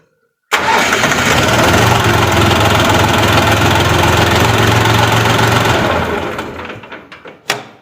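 A YuTO walk-behind tractor engine cranks and starts abruptly, then runs loud and steady at idle for several seconds before being shut off and dying away, followed by a brief clunk.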